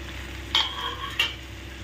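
A spatula stirs fried paneer and potato in a pan while cooking chilli paneer with curry leaves, giving two short, distinct scraping strokes about half a second apart over a faint background hiss.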